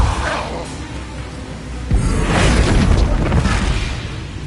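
Depulso force spell cast in the Hogwarts Legacy video game: a sharp booming burst about two seconds in, followed by a whooshing blast and a second swell, loud against continuous low game rumble.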